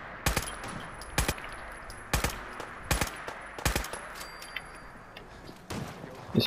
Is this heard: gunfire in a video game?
yes